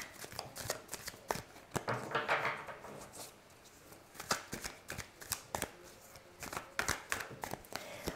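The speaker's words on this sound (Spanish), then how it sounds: "vamos a terminar de barajar bien las cartas." Tarot cards being shuffled by hand close up, in quick bursts of riffling and soft slaps with short pauses in between.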